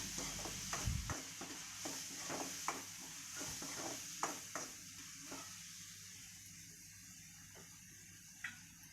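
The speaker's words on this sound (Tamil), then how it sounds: "கொஞ்சமாக மஞ்சத்தூள் போட்டுக்கலாம் கொஞ்சம் தக்காளி வெங்காயம் நல்லா வதங்கட்டும்" Tomatoes and onions sautéing with turmeric in a pan, a faint steady sizzle broken by repeated scraping stirs of a spoon, quiet and close with no talking.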